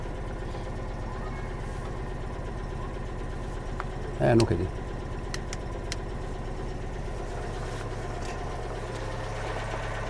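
An old German or French barn-find car engine idles steadily and close by, a continuous low rumble throughout, with a brief louder burst midway and a person speaking briefly over it.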